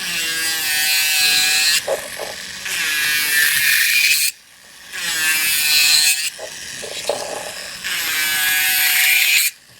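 A high-pitched electric nail drill whirs in long bursts, each spin-up lasting a couple of seconds and separated by brief pauses.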